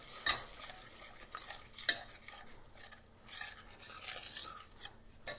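A spoon stirs milk into a thick sauce in a pan, with scraping, rasping strokes and a couple of sharp clinks against the pan, close and quiet with no talk.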